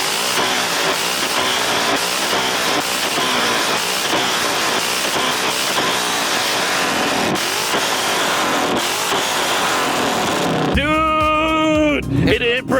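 A straight-piped Nissan 350Z/370Z blasts loud, raspy exhaust revs in repeated rapid bursts, close by and aggressive, ending with a sharp high-pitched tonal sound near the finish.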